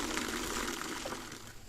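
Rainwater pours out of a tipped drum filled by heavy rain, a brief, steady gushing wash of water, faint and unaccompanied by voices.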